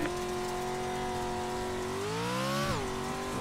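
A racing truck engine from the iRacing game holds a steady high drone in third gear, its pitch slowly climbing, briefly surging, then dropping back, loud and continuous with no voices.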